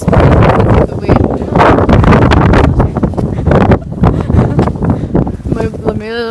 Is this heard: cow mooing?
no